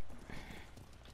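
Horse hooves clip-clopping in the video game Ghost of Tsushima, a brief close run of hoofbeats over a busy background of game ambience.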